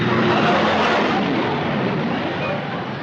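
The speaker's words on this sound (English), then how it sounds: "It sounded like a big plane." A large airliner roars overhead near an airport during a landing approach, a steady, loud, broadband drone lasting a few seconds that fades slightly toward the end, with no voices over it.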